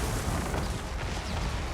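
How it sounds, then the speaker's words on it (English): Warp Lightning spell strikes in a Total War Warhammer 2 battle, cast by a Clan Moulder army: a loud, dense wall of crackling booms and rumbling blasts that runs unbroken for the whole stretch, with no voices over it. "I remembered to use my Warp Lightning."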